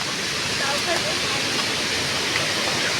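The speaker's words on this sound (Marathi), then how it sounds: "फायनली आपण धबधब्याच्या वरच्या बाजूला पोचलो आहे" Steady, loud roar of the Kinalos waterfall in Konkan, Maharashtra, heard from near its top as a continuous wash of rushing water with no breaks.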